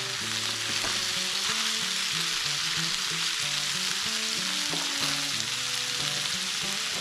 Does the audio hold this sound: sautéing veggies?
yes